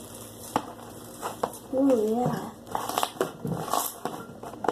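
Foam bead slime being squeezed by hand, giving irregular close crunches and squishes, with a woman briefly exclaiming over it.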